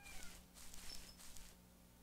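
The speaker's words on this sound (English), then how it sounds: "I just heard an animal. Sounded like a cat meowing." Faint meows of a wild cat in the Minetest video game, two or three short calls over a low steady background hum, fairly quiet and distant.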